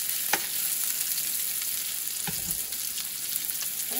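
Meatballs fry in oil in a pan, giving a steady close sizzle and crackle throughout, with a few faint knocks as they are turned.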